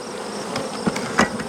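Honey bees buzzing around hive boxes at a beekeeping yard, a close, continuous insect hum with a few louder passes as individual bees fly near.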